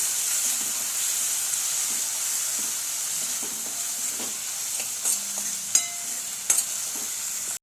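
Onions and tomatoes sauté in a pan for a traditional Gujarati green moong curry, giving a steady close sizzle with scattered spoon scrapes and clinks against the pan, louder taps near the end.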